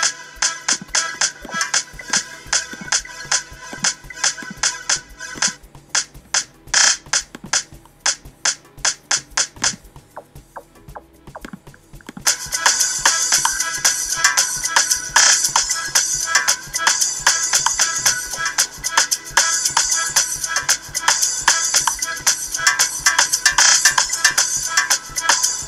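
Amapiano beat built in Logic Pro X with bright plucked synth stabs and snappy percussion, which thins briefly near the middle before a fuller, denser groove comes in. Steady and fairly loud, with no voices.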